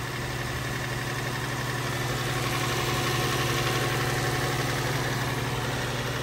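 A BMW M3 convertible from a salvage auction idles after being started, giving a steady, close rumble with a constant low hum and a faint mechanical buzz that hold even throughout, with no voices.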